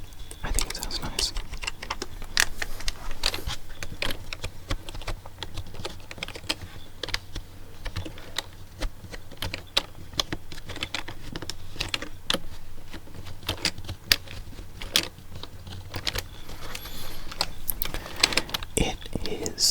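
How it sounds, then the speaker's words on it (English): An old, standard black computer keyboard, well over a decade in use, clatters under steady close-up typing, a dense run of quick keystrokes lasting throughout with a soft whispering voice faintly in the background. "It is a very standard black back keyboard."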